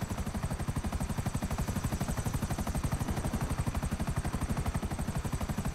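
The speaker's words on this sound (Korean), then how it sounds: "헬기가 하나 있어요." A helicopter in GTA 5 with rapid, steady rotor chopping that stays loud and close throughout, with no talk over it.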